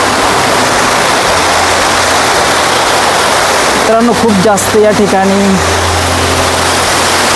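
A waterfall at the source of the Daman Ganga river in the Sahyadri mountains roars loudly and steadily close by. Someone talks over the constant rushing water.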